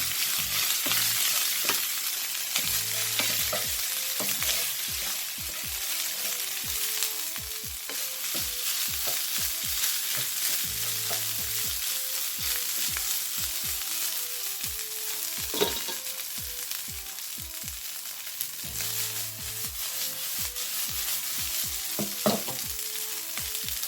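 Rice sizzles and crackles as it fries in a pan for Cantonese fried rice, with steady close frying hiss and repeated scraping stir strokes in an even rhythm throughout.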